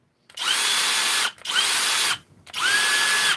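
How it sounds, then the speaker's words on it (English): A Skil 12V PWRCore brushless drill driver runs in three separate bursts of about a second each, with short pauses between them. The whine is steady and close, and no one talks over it. "so obviously it's a drill driver, guys. You got 2 speeds on it."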